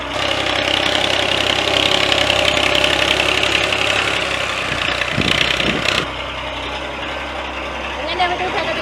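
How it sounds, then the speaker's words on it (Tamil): A machine ploughing a neighbouring paddy field in a Jaffna village in Sri Lanka gives a continuous broadband engine roar and rumble that drops somewhat partway through, with people talking over it. "பக்கத்து வயலில் நெல் போடுறதுக்கு மிஷின் உழுவுது."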